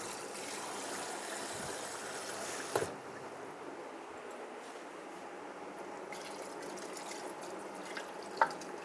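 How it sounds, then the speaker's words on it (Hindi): Water pours steadily into a pot of beef qorma for about three seconds, then stops, leaving faint drips and a low background hum. "इसी में मैं थोड़ा सा पानी डालूँगी"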